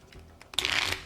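Playing cards are shuffled and drawn for initiative in a tabletop game: a few soft taps and slides, then a quick crisp riffle of cards close by, lasting about a second.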